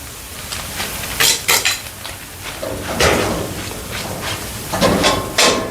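Noodles tossed with vegetables in a pan in a terrace kitchen: a steady sizzle broken by repeated spatula clanks and scrapes against the metal, close and fairly loud.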